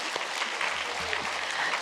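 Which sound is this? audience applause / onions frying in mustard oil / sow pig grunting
audience applause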